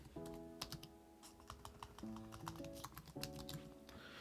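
Quick, quiet clatter of keystrokes on a computer keyboard in short irregular bursts, close up, with faint background music underneath.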